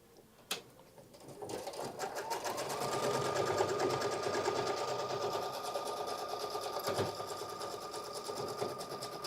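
Sewing machine needle stitching through a quilt block with batting underneath, a fast steady mechanical whir rising after a click and running continuously at close range, with no talking.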